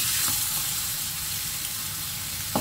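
Garlic sizzles steadily in hot oil in a pan while being sautéed as the base for Chinese-style adobo, a continuous close frying hiss with no talk.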